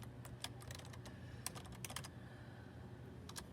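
Fingers type on a computer keyboard, a scatter of quick light key clicks in short irregular bursts over a faint steady background hum, with no voices.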